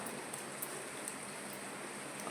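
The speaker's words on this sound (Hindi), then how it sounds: "ना जाने बारिश कब से लगी हुई है" Rain falls steadily in a town setting, a dense even hiss of drops hitting surfaces with faint scattered patters, no voices, heard throughout at moderate level.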